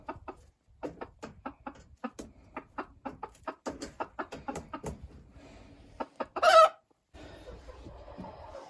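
Chickens cluck in a steady run of short, repeated calls, nearby and moderately loud, with a brief louder squawk near the end.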